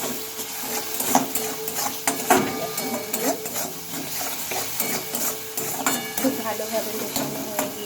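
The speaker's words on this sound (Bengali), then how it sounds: "লবণ আর হলুদ গুঁড়োটা দিয়ে নিয়েছে এখন এটা খুব ভালোভাবে মিশিয়ে নেব" Beans mixed with salt and turmeric powder are stirred in a sizzling pan, with a spoon scraping and clinking against the metal in irregular strokes over a steady frying hiss.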